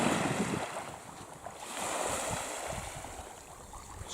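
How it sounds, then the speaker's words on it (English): Surf washing onto Pennefather Beach on Cape York, a steady broadband roar of breaking waves with wind buffeting the microphone, continuous and fairly loud with no voices. "Just a section of Pennefather Beach."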